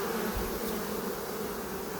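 Honey bees buzzing densely around hive frames during a spring honey harvest, a continuous loud swarm hum close up with no talk.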